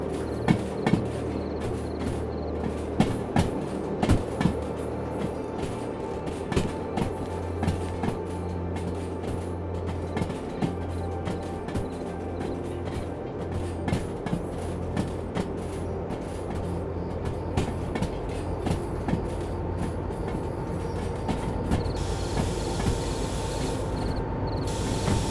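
A locomotive in the Derail Valley train game rumbles steadily along the rails, with continuous low engine drone, wheel clatter and repeated clicks over the track, fairly loud and alone throughout.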